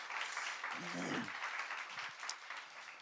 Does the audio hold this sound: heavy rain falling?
no